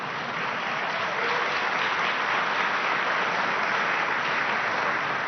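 A dense, sustained wave of applause from the crowd at the Iowa Ronald Reagan political dinner fills the room, loud and unbroken, with no speech over it.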